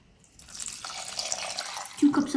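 Water is poured or run into a container for a Korean pickled radish brine, a soft splashing trickle that builds and ends in a brief louder gush, close by.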